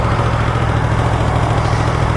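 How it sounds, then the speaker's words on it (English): A 2015 Yamaha R1M motorcycle engine runs through its stock exhaust, giving a loud, steady, deep rumbling hum that holds an even pitch across the short stretch, with no voices. "Even though the stock exhaust isn't that great, it still sounds amazing."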